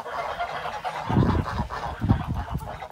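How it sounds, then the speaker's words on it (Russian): A few geese honk nearby in quick, overlapping calls on a Siberian farmstead, with rural background noise around them. "Это гуси, да? Там еще гуси"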